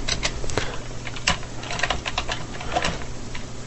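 Typing on a computer keyboard: quick irregular clatter of keystrokes, close and fairly loud, with no voice.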